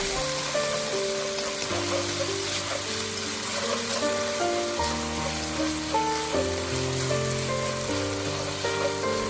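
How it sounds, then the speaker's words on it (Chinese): Marinated shredded pork hits hot cooking oil in a wok with a steady, close frying sizzle that carries through the whole stretch, with sustained musical tones layered over it. "倒入食用油，油热之后下入腌制好的肉丝，然后用筷子将肉丝划散"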